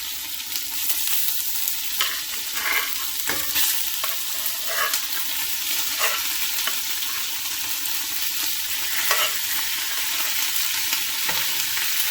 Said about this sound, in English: I'm just going to sear these down in here. I don't want to cook it all the way. I'm just getting a nice sear on it.